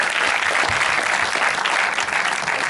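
An audience at a French film screening and Q&A applauds, a dense, steady roar of clapping held at an even level from start to finish.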